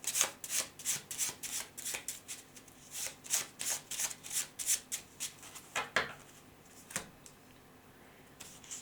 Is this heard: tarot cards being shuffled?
yes